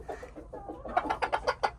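A dwarf Cochin rooster gives a quick run of short, rhythmic clucks up close, calling his hens, the calls rising and growing louder toward the end with no talk over them.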